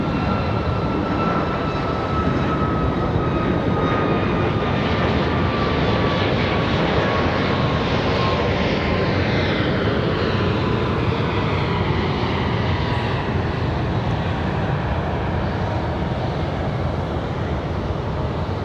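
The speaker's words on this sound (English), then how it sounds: "Nice early rotation for Southwest." Southwest airliner rotating on takeoff at Raleigh-Durham airport, a loud steady jet engine roar filling the air throughout, with a whining tone slowly gliding downward as the plane pulls away.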